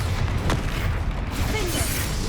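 Bombarda blasting spell in Hogwarts Legacy, a heavy booming blast with a sharp burst near the start and a dense low rumble carrying through, loud and close amid game effects.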